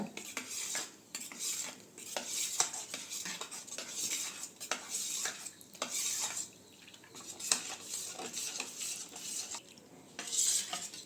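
A spoon scrapes and clinks steadily against a bowl, stirring a moong dal payasam mixture smooth in quick repeated strokes, close up with no voices.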